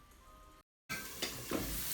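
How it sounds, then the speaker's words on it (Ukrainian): Mushrooms sizzle steadily in a hot pan, a close, bright crackle that cuts out briefly and then returns louder with light stirring. "Поки гриби обжарюються на сковорідці"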